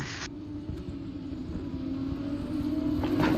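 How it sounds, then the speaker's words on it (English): An F2 race car in a racing video game holds a steady, droning engine rumble that builds slightly in loudness toward the end, with a brief higher whine near the start. "The F2 cars sound amazing."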